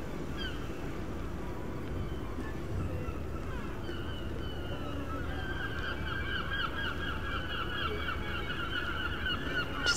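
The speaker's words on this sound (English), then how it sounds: "Love the squawking of the seagulls." Gulls calling repeatedly over a harbour waterfront at sunset in Brixham, Devon, their honking cries rising over a steady background of outdoor ambience and distant activity.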